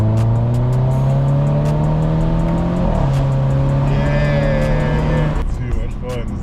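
A new car driven hard, its engine droning steadily at high revs with a brief shift partway through before the pitch climbs again; the engine stays loud and close throughout, with occupants talking over it.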